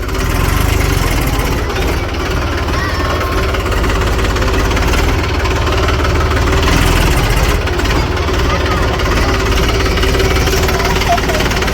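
A loaded tractor's engine runs loud and steady throughout, a continuous close rumble with knocking overtones during a coriander harvest.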